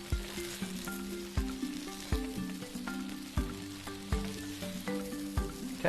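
Garlic prawns and water spinach sizzle steadily in a hot wok, with repeated sharp scrapes and clinks of a spatula tossing the stir-fry at an uneven rhythm, close and fairly quiet.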